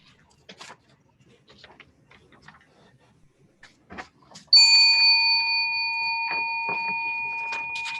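A doorbell rings once with a bright, sustained chime that slowly fades, clear and close after several seconds of faint, scattered quiet sounds.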